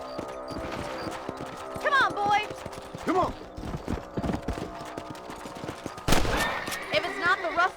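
Horses clip-clopping in the video game Red Dead Redemption, rhythmic hoofbeats mixed with neighs, scattered gunshots and a voice urging them on.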